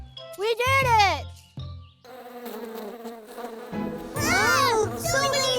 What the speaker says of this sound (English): Oh, so many bees!